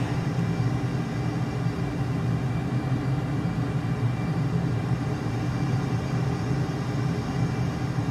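Aircraft engine held at maximum throttle in Microsoft Flight Simulator, near Nellis Air Force Base: a constant, heavy low drone with steady rumble, unbroken and loud for the whole stretch.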